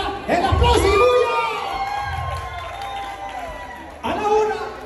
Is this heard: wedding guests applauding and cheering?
yes